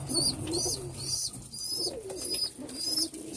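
Pigeons coo steadily in a loft at the end of the breeding season as the last young fledge, low repeated rolling calls with a few higher chirps over constant background noise, no talk.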